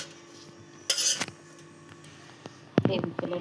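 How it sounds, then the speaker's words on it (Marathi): A knife cutting thick green village chillies on a board: a few sharp chops and clicks in two brief clusters, close and fairly quiet, with light kitchen handling sounds between. "अशा सर्व मिरच्या आपण कट करून घेऊया."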